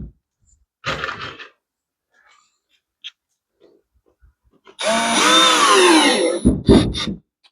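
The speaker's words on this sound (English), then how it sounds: "So make sure you're countersinking those screws about 1/8 of an inch." A power drill drives countersunk screws into interior window trim: a short burst of whirring, a pause with small handling noises, then a longer rising drill whine that cuts off in a few brief final spurts.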